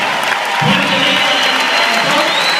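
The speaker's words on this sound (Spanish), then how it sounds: "Vamos a enviarle un tremendo aplauso que lo escuche en Corozal." A dense, steady wash of applause from a large theater crowd at the Ritz Theatre in New Jersey fills the whole stretch, loud and continuous, with a few faint voices underneath.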